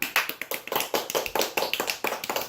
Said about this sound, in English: let's have a round of applause for my assistant, Joel.